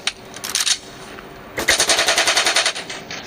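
An Austrian Steyr AUG assault rifle fires on full automatic. A short loud burst comes first, then a longer rapid string of closely spaced shots, sharp and near.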